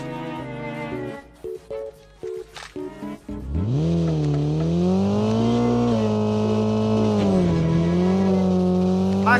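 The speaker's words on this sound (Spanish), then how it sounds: "Se oye bien fuerte este carro" Loud car engine in the mobile shooter Call of Duty Mobile: a few choppy bursts, then a sustained droning roar that rises in pitch and holds steady, harsh and overpowering, with no talk over it.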